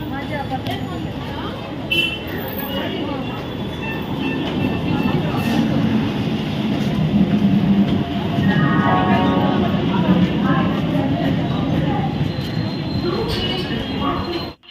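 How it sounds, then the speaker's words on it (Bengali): A train pulls into and stands at a railway platform, giving a steady, loud rolling rumble with a brief metallic wheel squeal midway and the murmur of people nearby throughout. "আমরাও আমাদের ট্রেন পেয়ে গেছি, উঠে পড়েছি।"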